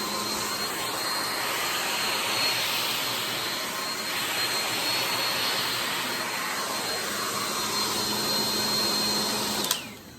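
A hair blow dryer runs continuously on its medium setting, a loud steady whooshing roar close by that cuts off abruptly near the end.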